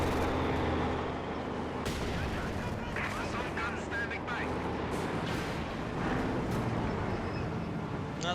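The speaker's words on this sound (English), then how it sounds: "Another Katyusha barrage." Rocket artillery barrage in Company of Heroes 2, a Katyusha launcher firing a volley of rockets as dense overlapping blasts and rumbling impacts over a steady battlefield din, with a commentator talking throughout.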